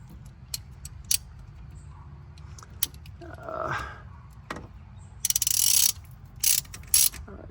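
A ratchet wrench tightens the wheel bearing bolts on a Mazda 6, giving sparse clicks and a quick burst of rapid ratcheting amid scattered metallic clinks in a quiet garage.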